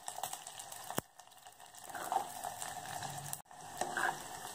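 Garlic fries in oil after mustard seeds have popped, giving a faint crackling sizzle broken by a few sharp clicks from a spoon against the pan.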